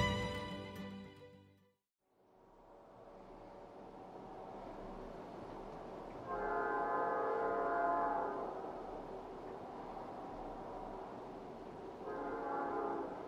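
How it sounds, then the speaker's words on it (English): Passing coal-loaded freight trains rumble steadily nearby, with two long, loud horn blasts sounding over the rolling clatter of rail cars. "I'm passing trains that are topped perfectly with coal, snaking to each side of the horizon."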